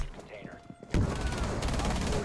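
Gunfire in Rainbow Six Siege, a short sharp burst of rapid shots cutting in loud after quieter clicks and movement, with a voice speaking briefly under it.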